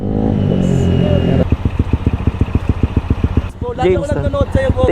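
Revving of a 213cc scooter engine with performance parts, a loud close drone at first, then choppy pulsing bursts as the throttle blips, with people talking over the last part.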